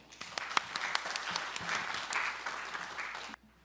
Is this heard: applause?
yes